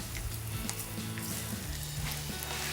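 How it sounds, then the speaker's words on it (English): A salmon fillet lies skin-down in a hot pan and sizzles steadily, a close, dense crackle of frying for teriyaki salmon with no talking. "place your salmon fillet in with the skin facing down. We're gonna let them crisp up for about 4 minutes."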